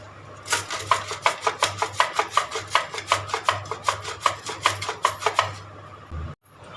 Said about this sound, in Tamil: இப்போ இதை நம்ம துருவி எடுத்துக்கலாம்